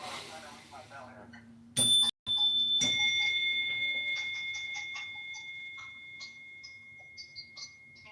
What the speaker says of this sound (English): Let me hit my bell one more time.